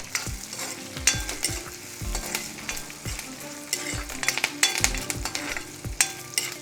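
Onions, green chillies and curry leaves frying in oil for sorghum flour upma, with a steady sizzle broken by repeated sharp clanks and scrapes of stirring, close and fairly loud.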